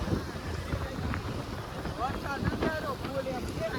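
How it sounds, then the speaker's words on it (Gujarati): Cool wind rushes steadily across the microphone with a low rumble ahead of rain, while indistinct voices murmur faintly underneath. "હા ટાઢો પાઢો પવન આવે"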